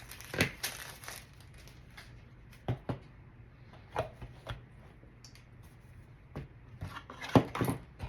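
Purple ribbon is cut for a wreath: sparse, crisp snips and crinkly rustles spaced irregularly, with about a dozen sharp close clicks over a quiet room background and no speech.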